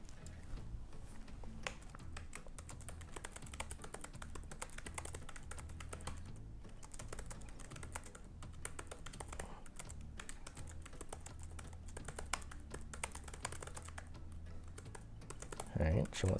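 Steady, continuous typing on a computer keyboard, dense clicks of keys close up throughout, with a brief louder knock near the end.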